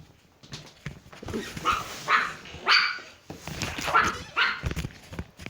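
A dog barks and yips several times in quick bursts, fairly close, with some whimpering between.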